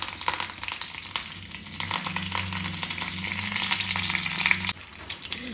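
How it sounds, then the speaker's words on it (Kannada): Mustard seeds and curry leaves sizzle and crackle in hot oil for a chutney tempering, a steady close frying hiss with a stir partway through that ends abruptly. "ನೋಡಿ ಚಟ್ನಿ ಒಗ್ಗರಣೆ ಮಾಡ್ಕೊಳ್ಳೋಣ"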